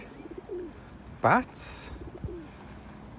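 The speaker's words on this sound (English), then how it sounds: "what they don't mention is the millions of pigeons" Pigeons coo in a park, one loud close call among softer scattered coos, with a person talking over them.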